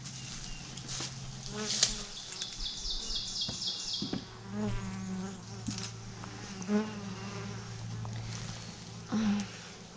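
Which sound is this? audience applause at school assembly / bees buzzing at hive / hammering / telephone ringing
bees buzzing at hive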